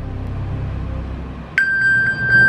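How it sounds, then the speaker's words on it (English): Low background rumble, then an electronic beep tone starts abruptly and holds with a few short pulsing chirps, fairly close. "That was my phone beeping."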